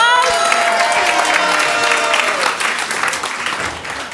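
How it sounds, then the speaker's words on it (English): An audience at a Saturday night live show bursts into loud, close applause with some cheering, full at first and then thinning slightly as it fades. "Let's give him a round of applause."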